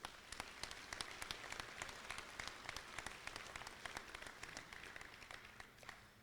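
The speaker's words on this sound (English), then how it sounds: "let's give them one more round of applause" Applause for award nominees at an athletics awards ceremony, a steady patter of many hands clapping at a fairly low level, with individual claps standing out, continuing throughout without talk.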